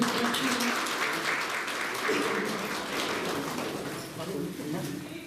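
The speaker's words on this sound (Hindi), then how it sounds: "प्लीज तालियां थोड़ी सी" Audience applause at a school management committee honouring ceremony, steady dense clapping filling the clip with voices talking over it.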